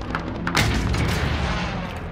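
A loud, close rocket explosion from an RPG in Call of Duty: Modern Warfare, a single heavy boom that breaks in sharply and then rumbles and crackles on through the rest of the moment.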